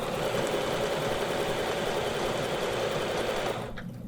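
Sewing machine stitches a quilt block in a fast, steady mechanical whir with a rapid needle rhythm, running continuously close up before slowing and stopping near the end.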